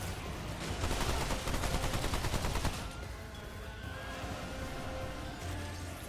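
Rapid automatic turret fire in the Remnant II video game, a dense loud burst of repeated shots for nearly three seconds before dropping to a steady lower rumble of game noise.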